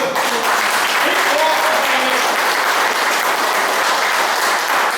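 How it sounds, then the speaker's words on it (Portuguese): A church congregation claps during a Portuguese-language worship service, loud continuous applause with a few voices calling out over it. "então vamos dar uma salva de palmas para Jesus"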